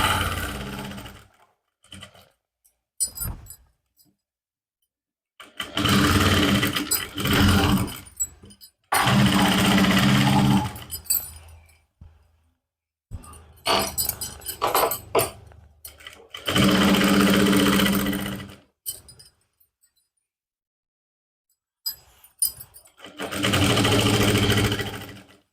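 A sewing machine stitches a trouser seam in several loud, close bursts of varying length, with short clicks and silent pauses between runs.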